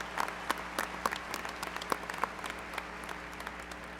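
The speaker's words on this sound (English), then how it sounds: "Let's give them a round of applause" Scattered clapping from the stands at a 2018 high school graduation, with a few sharp individual claps standing out over a thinner, fairly distant wash of applause.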